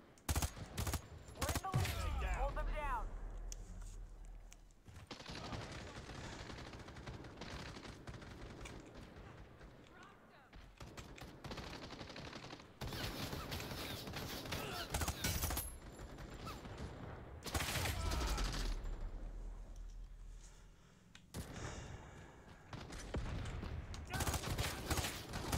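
Bursts of gunfire fill an online video game battle, loud rattling volleys with short pauses between them and a voice talking over parts of it.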